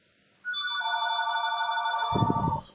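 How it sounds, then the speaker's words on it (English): A telephone ringing in an indoor room, a loud sustained electronic ringtone with layered tones that plays for about two seconds, ending with a short rumble of noise. "that phone has been driving me fucking nuts all day"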